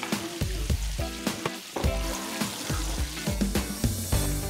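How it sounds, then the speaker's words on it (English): Sandhill crane meat, floured and chicken-fried in peanut oil, sizzling and popping, a loud steady crackle with sharp spits and bursts throughout. "Now I'm chicken frying some crane."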